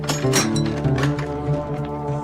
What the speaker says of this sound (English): That is the mystery box opening in COD Zombies and closing.